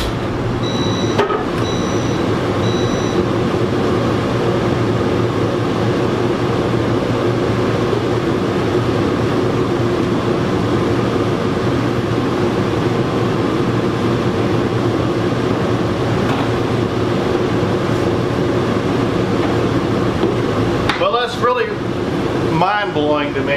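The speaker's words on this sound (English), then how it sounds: "it actually held all three of those air conditioners running, and the generator won't" Three air conditioners in a homemade RV built on a 1977 Peterbilt 359 toterhome run together on a power inverter, giving a loud, steady blowing and humming drone that holds throughout, with a short clatter near the end.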